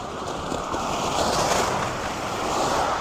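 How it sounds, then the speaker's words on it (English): Steady rain falling outdoors, a dense broadband hiss with a soft patter that holds at an even level throughout, close and continuous with no voices. "It's raining outside right now."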